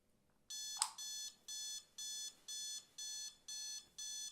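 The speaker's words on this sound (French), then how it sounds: "Le réveil sonne." A bedside alarm clock rings in repeated electronic beeping bursts, eight even pulses about half a second apart, clear and close in a quiet room, with a brief click just before the second pulse.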